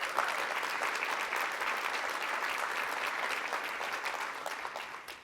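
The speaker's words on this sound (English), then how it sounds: "My girl Donna started that clap." Sustained audience applause at a launch talk, a dense wash of many hands clapping steadily for about five seconds and tapering slightly at the end, with no voices on top.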